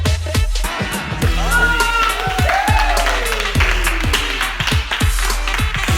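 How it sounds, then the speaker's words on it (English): Audience applause from a crowd, scattered claps and taps over a steady wash of room noise with tonal sounds sliding underneath, lasting the whole stretch at fairly close, loud level. "Please give me a big round of applause."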